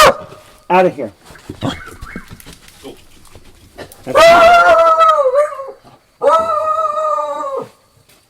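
A pet dog indoors barks in short bursts, then lets out two long, loud howls, close to the microphone, while a person briefly speaks between the calls.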